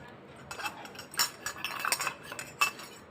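Newly bought steel utensils, bowls, spoons and plates, clink and rattle as they are handled close by, a few sharp metallic chinks over low room noise with no talk.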